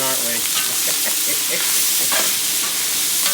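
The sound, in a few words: vegetables cooking over high heat, sizzling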